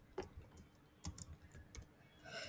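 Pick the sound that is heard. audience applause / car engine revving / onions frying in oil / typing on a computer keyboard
typing on a computer keyboard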